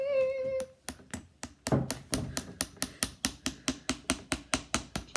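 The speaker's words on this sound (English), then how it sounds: "almost done with the hammering" Steady hammer blows strike in a regular rhythm, about two or three per second, sharp and close, with a brief tonal sound at the very start.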